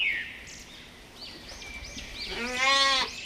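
Sheep grazing in a field bleat, a wavering nasal call rising near the end after a few shorter cries, heard fairly close over quiet background.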